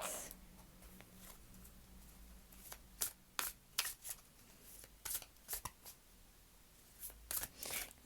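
Tarot cards are drawn from a deck in a quiet room: soft papery slides and flicks come in several short bursts, close and fairly faint, with no speech over them.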